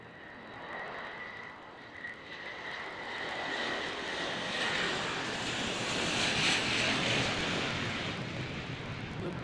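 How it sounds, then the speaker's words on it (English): A Bombardier Global 8000 business jet spools up and rolls for takeoff, a steady, broad roar building gradually in loudness with a thin whine riding on top, heard alone from a distance at an air show. "We can hear him spooling up and rolling now."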